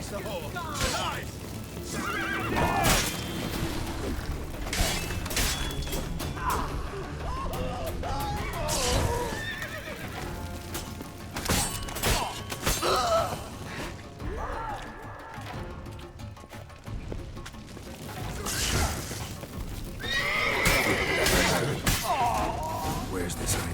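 A horse neighs and whinnies repeatedly amid crashing impacts, thuds and clopping hooves, with voices mixed in, a busy and fairly loud scene in the video game The Witcher 3.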